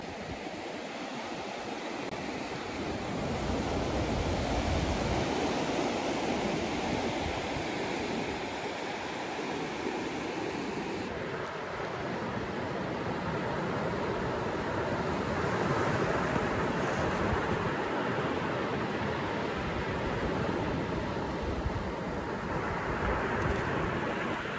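Ocean waves breaking on Gulf Shores beach in Alabama, a steady roaring surf wash mixed with gusty wind, loud and continuous with no voices.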